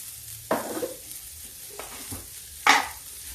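Bitter gourd with spices roasting in a pan over a gas flame, a soft continuous sizzle broken by a few sharp stirring scrapes of a utensil against the pan.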